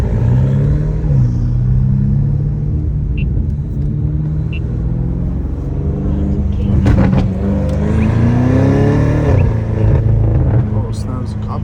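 Straight-piped BMW M5 Competition engine droning loudly from the cabin, rising in a rev swell near the middle, with a driver talking over the steady exhaust rumble throughout.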